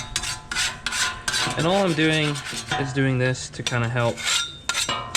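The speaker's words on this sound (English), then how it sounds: "whichever spatula is the dirtiest is the one I usually use to do the basic scraping" A metal spatula scrapes a dirty Blackstone griddle in rough rasping strokes, heard mostly at the start and between phrases while someone talks over it.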